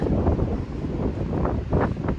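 Strong gusting wind buffets the microphone in a broad, continuous roar during a storm near Wells, British Columbia, loud and steady with rising surges, and no voices.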